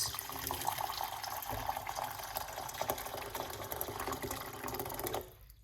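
One cup of hot water pours steadily into a medium-sized pot for about five seconds with a hollow splashing rush, then stops abruptly.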